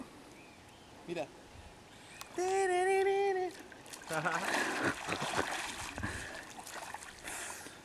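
A monkey dives and splashes into river water, with a brief broadband splash following a sustained sung or whistled tone, and voices throughout.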